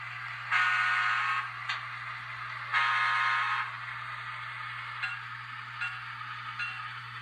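A Kato E8A model train locomotive sounds its horn in two long, bright blasts followed by a few short faint toots, all over a steady low electrical hum.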